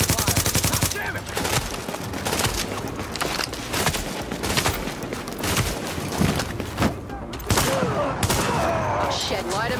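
Dense, rapid gunfire fills a combat firefight in the video game Tom Clancy's The Division, with overlapping bursts and volleys, loud and continuous, while game characters shout over the shooting.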